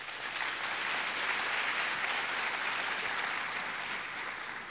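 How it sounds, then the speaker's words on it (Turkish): Seminar audience applauding, a dense sustained round of clapping from many hands that holds steady for the whole stretch, with no speech over it. "Bunu sadece gençler mi alkışlıyor?"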